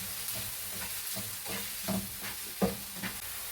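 Chopped onion sautéing in a pan for a boneless chicken curry, a soft steady sizzle with occasional spoon stirs and light clinks, fairly quiet and close, with no voices.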